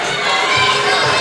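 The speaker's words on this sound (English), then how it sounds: "huge round of applause for Katie and Alex" A crowd at a women's boxing bout roars and cheers in a loud, continuous wash of voices and shouts, close and steady for a brief moment.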